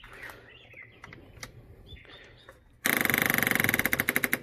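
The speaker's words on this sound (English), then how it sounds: "That's the fuel pump kicking on." A fuel pump on a John Deere race mower fitted with a Honda Fourtrax 250 engine kicks on abruptly after quiet ambient sounds, giving a loud, steady, rapid electric buzzing with a pulsing rhythm close by.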